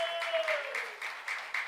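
Congregation at a youth church sermon clapping, a steady dense patter of many hands with a fading tone underneath, moderately loud and continuous.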